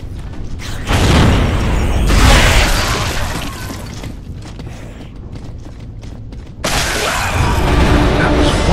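A heavy explosion from the video game Gears of War 3 booms loud and close, with crashing debris and rumbling mechanical noise, then a second loud burst near the end.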